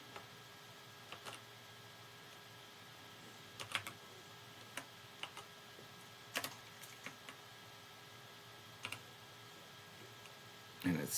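A few sparse, faint keystrokes on a computer keyboard click apart from one another over a quiet room hum, with a brief louder burst near the end.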